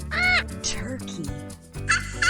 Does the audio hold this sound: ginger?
no